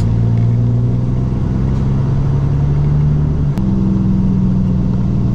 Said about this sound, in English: There's traffic everywhere.